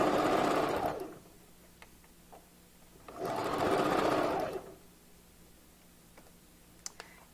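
Sewing machine stitching hair onto the back of a 5x5 raw Indian closure for a bob wig, running in two bursts of about a second each separated by quiet pauses with faint clicks.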